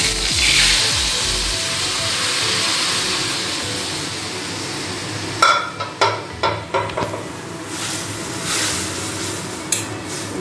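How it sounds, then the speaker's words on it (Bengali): Boiled lentils go into a pan of fried ginger, with a steady close sizzle followed by a quick run of spoon and pan clatters, then quieter frying. "এবার আদা ভাজা হয়ে গেছে, এবার এর মধ্যে দিয়ে দেবো হচ্ছে ডাল।"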